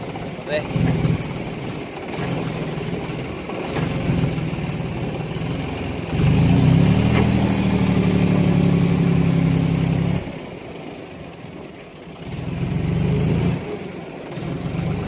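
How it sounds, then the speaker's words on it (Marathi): A stuck tractor's heavy engine runs steadily, rising into a louder, strained rumble for a few seconds as it pulls free before easing back down, with faint voices in the background. "निघलं ट्रॅक्टर फायनली निघलं"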